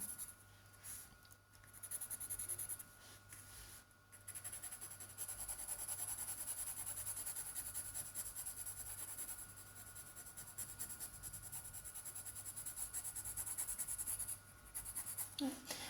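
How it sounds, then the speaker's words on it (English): Side of a graphite pencil shading across paper for a tonal cactus drawing, a steady soft scratchy rubbing that runs almost continuously over a low mains hum, with brief pauses. "I'm using the side of my pencil."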